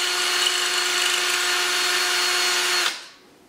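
A power drill spins a bit to bore a pilot hole, a steady high whine holding for about three seconds before the motor cuts off and winds down.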